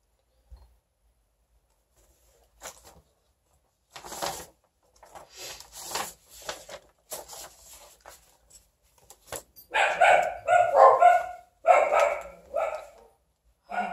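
Dogs bark from a distance at first, then louder and closer in a rapid flurry of overlapping barks toward the end.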